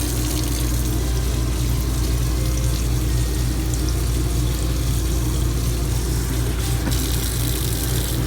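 Hot water tap running steadily in a 2021 Bullet Crossfire travel trailer, a constant close rushing flow over a low engine-like hum, with no talking.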